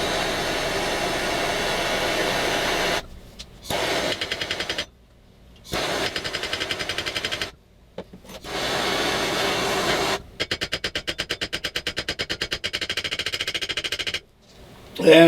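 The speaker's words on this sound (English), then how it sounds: "We're going to tap it with a hammer." A hammer raps rapidly on a heated lawn tractor deck spindle in quick metallic bursts, separated by short pauses, over a steady loud roar.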